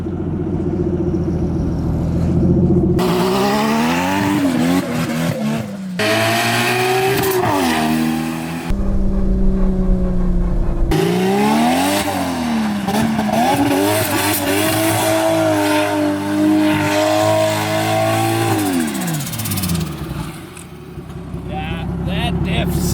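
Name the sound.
BMW E36 with 1JZ engine driving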